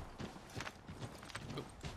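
Rhythmic horse hooves clip-clop at a steady trot in Assassin's Creed III, the game's rendition of a horse ride, faint and continuous against a soft background.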